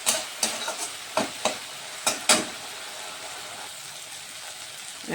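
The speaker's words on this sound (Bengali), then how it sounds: "না হলে মশলাগুলোকে একটু কষিয়ে নেব, কারণ টমেটো আছে, না হলে টমেটোর গন্ধ লাগবে" Spices sautéing in hot oil for a tomato-based koi fish curry, a steady sizzle broken by several sharp spoon clinks and scrapes against the pan, close-up with no voices.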